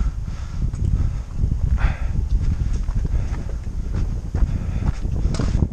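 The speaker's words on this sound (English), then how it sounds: "that wind feels good" Steady broadband wind gusts across a ridge trail on the Appalachian Trail, buffeting a nearby microphone with a continuous low rumble and occasional rustling, with no speech.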